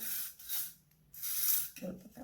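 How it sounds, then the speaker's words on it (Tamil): Hair spray mists onto hair from a can held at a distance, two short airy bursts of hiss about a second apart, close and moderately loud, followed by a faint rustle. "இப்போ இந்த டைமில் கொஞ்சம் ஸ்ப்ரே மூட்டுப்படாமல் லைட்டாக தூர வச்சு இந்த மேல் பக்கம்"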